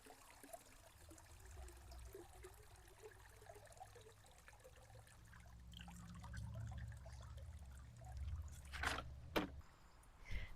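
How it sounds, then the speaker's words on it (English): Water trickles and drains out of an iGarden K50 robot pool cleaner lifted from the pool, a quiet steady dribble that grows into a couple of brief louder splashing gushes near the end. "Notice the water drains out nice and quick."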